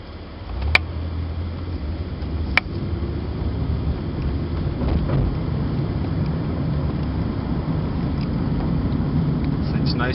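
Cabin of a 2006 Chevrolet Impala cruising on the highway, with a steady, muffled low rumble of road and wind noise that holds even throughout, broken by a couple of faint clicks.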